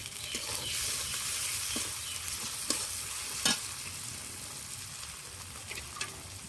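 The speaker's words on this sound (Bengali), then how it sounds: "আদা বাটা রসুন বাটা আদা রসুন দিয়ে কিছুক্ষণ নেড়ে নেব" Ginger and garlic paste frying and being stirred in a pan, with a steady soft sizzle broken by light scrapes of a utensil, close and quiet.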